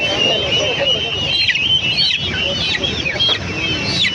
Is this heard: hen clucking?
yes